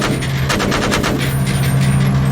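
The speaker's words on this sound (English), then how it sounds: "Could be a 20mm gun on that thing." A 20mm or 30mm cannon firing in the Arma 3 video game, a loud rapid burst of heavy shots over a steady engine drone.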